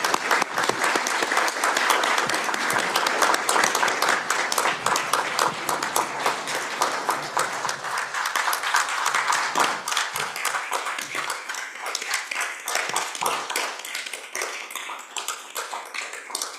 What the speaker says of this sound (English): If we give her one more last round of applause.